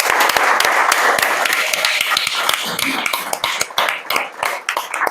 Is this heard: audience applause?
yes